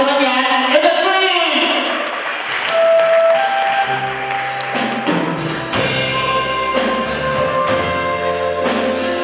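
Audience applause for a band at a gala night in Portland, scattered clapping under music and an announcer's voice.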